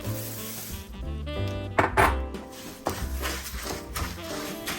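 Rice Krispy cereal and mint-colored marshmallow mixture are stirred together in a bowl, with crunchy scraping and clinks of the utensil against the bowl in uneven strokes.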